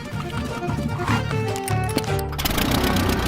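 A small, cheap plane engine drones loudly and roughly with a rattling, chugging beat, closer to a lawn mower than an aircraft, while a person speaks briefly over it.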